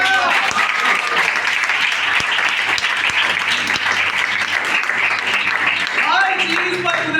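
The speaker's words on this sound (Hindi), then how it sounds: "तालियां बजाएंगे।" A church congregation at a Christmas sermon claps together steadily, dense rhythmic applause filling the room, with voices mixed in beneath it.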